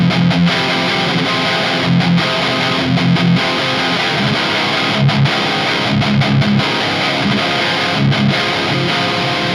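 Electric guitar through a Peavey 6505+ amp with the tube screamer off plays heavily distorted, chugging palm-muted riffs with short stops and bursts, dense and loud throughout.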